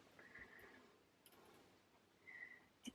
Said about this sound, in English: Anybody else love the sound of diamonds going into a pot?